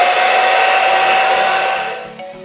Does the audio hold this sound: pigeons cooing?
no